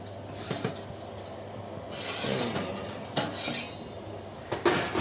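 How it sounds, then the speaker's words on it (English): Vegetables and potatoes dropped into a hot roasting pan for an oven-roasted chicken dinner, a few scattered clattering knocks and scraping rattles against the metal, moderately close with no voices. "let's go ahead and grab our roasting pan, and we'll go ahead and put our vegetables in there"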